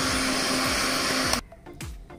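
An electric mixer whirs loudly and steadily as it beats cake batter with sunflower oil for a white forest cake, then cuts off abruptly, leaving faint bowl clatter.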